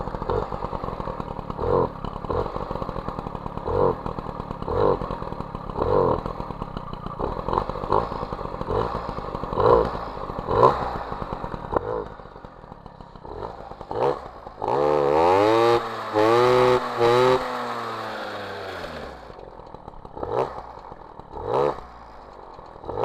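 A two-stroke MBK 51 moped engine fitted with a 15 PHBG carburettor running rich, close and rough with a steady popping idle, then revving up and down in rising and falling sweeps before settling back.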